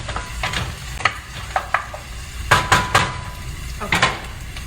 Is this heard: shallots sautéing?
yes